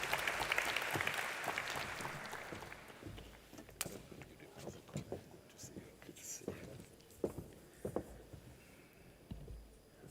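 Applause from a summit audience for a speaker on energy security, starting as a broad wash of clapping, then dwindling to scattered individual claps with faint murmuring as the room settles.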